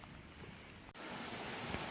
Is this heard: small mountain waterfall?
yes